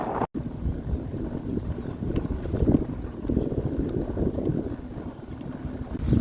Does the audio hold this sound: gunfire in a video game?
no